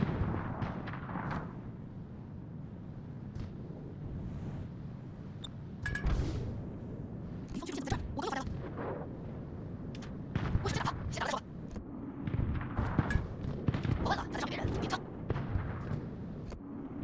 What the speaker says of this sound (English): I saw that this Florida was just in my range, so I fired a salvo at him.